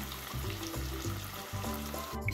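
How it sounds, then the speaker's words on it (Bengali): Cashew and melon-seed paste stirred into masala frying in a pan: a steady close sizzle with a low, pulsing scrape of the stirring repeated every second or so, no voices. "চাল মগজ বাটা আর কাজু বাদাম বাটাটা আমি মশলার সঙ্গে খুব ভালো করে মিশিয়ে দিলাম"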